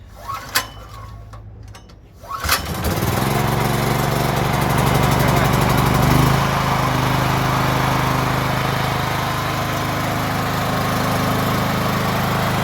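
A Benza BX 6000 6 kW gasoline generator engine cranks with its choke closed, a couple of sharp pulls, then catches and settles into a loud, steady running drone up to 95 dB that continues to the end.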